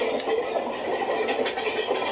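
Interior rumble of a passenger train hauled by a WAP-4 electric locomotive, running between Tambaram and Chengalpattu, with a steady wheel-and-carriage roar and faint clicks.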